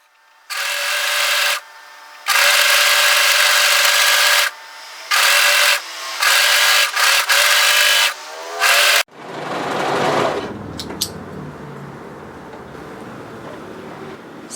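An overlocker serging the long curved edge of a hoodie hood, loud buzzing whirring runs in several bursts with short pauses between, then stopping into a quieter rustle of fabric being handled.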